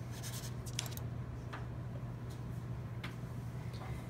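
Pencil on paper scratching out a foreshortened circle, a soft steady scrape with a few light strokes standing out, close and quiet over a low background hum, no voices.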